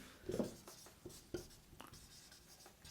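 Quiet pen-on-board strokes during a physics lesson on reflection and refraction come as a few short, faint scratches with pauses between them.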